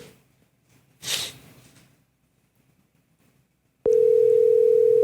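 A telephone line tone cuts in abruptly after a quiet breath and a brief snort-like noise: a loud, steady, continuous single tone that holds to the end.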